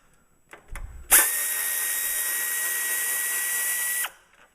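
A power tool unbolting parts from a Toyota truck's fender skirt runs in one steady high whine for about three seconds after a few light clicks and knocks, then stops abruptly.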